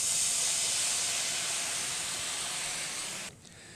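Garlic sizzles in a hot pan with a loud, steady hiss that drops sharply near the end as beef broth goes in, leaving a quieter simmer.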